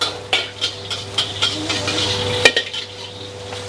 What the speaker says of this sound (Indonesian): kita langsung bikin 7 porsi nasi goreng kampung